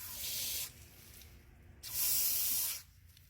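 Water sprays from a newly installed hose bib with a quarter-turn valve in two hissing bursts with a short quieter gap between them, close and fairly soft, with no talk.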